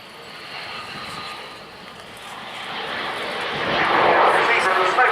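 Mikoyan MiG-29A jet making a slow-speed, high angle-of-attack display pass at RIAT 2016, a broad engine roar that swells louder toward the end as power bursts, with a commentator talking over it.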